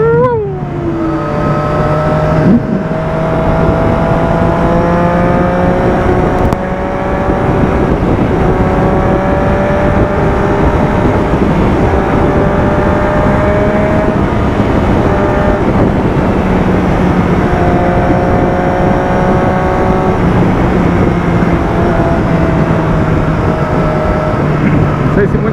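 A motorcycle engine whines at high revs at top speed on a long straight highway stretch between Curitiba and Ponta Grossa, its tone holding and shifting slightly with gear changes, over steady wind and road rumble.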